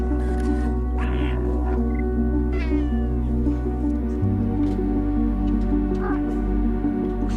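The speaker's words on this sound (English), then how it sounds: "You play as a cat with a backpack?" Cat character in a video game meowing repeatedly over a steady synthesized music backdrop, several short mews scattered through the stretch, fairly loud and without talk.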